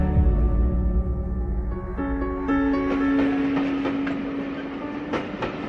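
A train at a station rumbles close by with a steady low roar, long sustained tones and scattered clicks and clacks of the wheels, with no voices.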